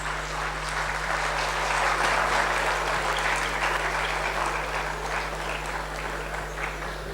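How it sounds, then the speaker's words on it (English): A crowd at a campus day event applauds club members coming onto a stage: a continuous wash of many hands clapping, fairly loud and even, swelling slightly midway over a low steady electrical hum. "Can we have a huge round of applause for these beautiful minds?"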